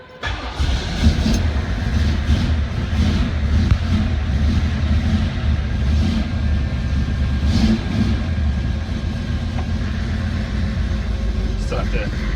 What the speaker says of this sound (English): So this is obviously cold motor, so you can see how hard it is to start or whatever.